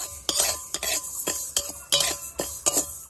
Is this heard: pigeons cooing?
no